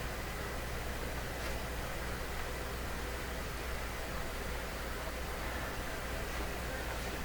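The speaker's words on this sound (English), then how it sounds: "So tune between stations, listen to white noise." Steady, even hiss of broadband static, constant and unbroken throughout, from a Nordmende 3004C radio tuned between FM stations.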